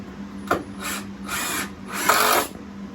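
A power drill driving screws into a wooden work table under construction, sounding as three short whirring bursts, each a brief close whine with gaps in between.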